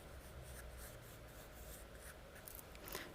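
A pencil draws a circle on paper in close, steady scratchy strokes that rub on without pause for the whole stretch, with no voices.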